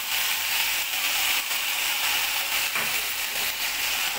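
Tomato and green chili paste sizzles steadily in a pan, a continuous broadband hiss of frying that stays close and fairly loud throughout with no voices.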